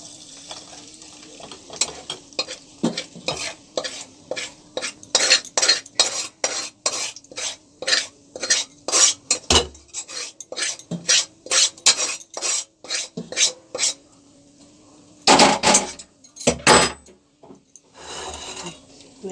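A spatula scrapes and presses cooked vegetables through a large metal strainer into a bowl, making a quick, rhythmic run of metallic clinks and scrapes that pauses briefly and then resumes.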